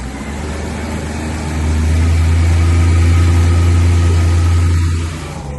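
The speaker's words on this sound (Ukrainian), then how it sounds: "Ось таким якісним японським двигуном на 50 фінських сил." A Japanese 50-horsepower outboard motor on a boat runs with a steady, close drone that swells louder after the first couple of seconds, then holds even before easing off at the end.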